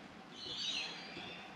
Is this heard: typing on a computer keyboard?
no